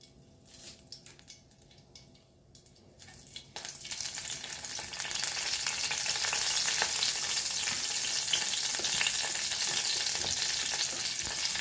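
Curry leaves dropped into a tablespoon of hot oil, made for Goan dried-prawn kismoor, set off a sudden loud crackling sizzle after a few quiet seconds of faint clinks, then spit and hiss steadily up close.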